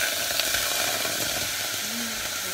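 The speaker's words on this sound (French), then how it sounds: "Donc là j'ai ma petite casserole bien chaude, je vais lancer ma petite" Strawberries sizzle in a hot saucepan as a red fruit compote starts cooking, a steady broadband hiss and crackle holding at constant loudness throughout, with no talking.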